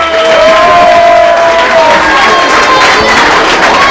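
A crowd at a Lion Club 24 km raid event in Parc des Grandes Fougères, New Caledonia, applauds and cheers in a dense, steady wash of clapping that holds loud throughout, with a few voices mixed in.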